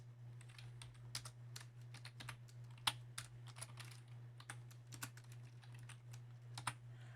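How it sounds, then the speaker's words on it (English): Small keys on a TI-Nspire calculator keypad are pressed in a quick irregular series of soft, close clicks over a steady low hum, with no talking. "Now I would type in the 2 separate expressions."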